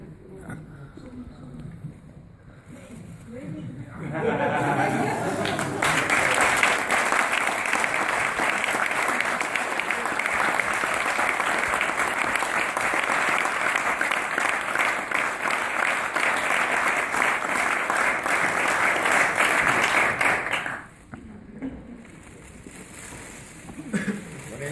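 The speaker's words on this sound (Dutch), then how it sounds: "met het applaus dat zojuist heeft geklonken" A city council chamber breaks into applause during a meeting, a sustained burst of many hands clapping that starts abruptly and stops just as sharply, with quieter room sound and low voices before and after.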